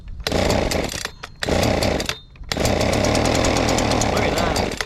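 A Husqvarna 125B leaf blower's small two-stroke engine runs loud and close with a buzzing roar, dropping out briefly twice before catching again and holding a steady, raspy drone.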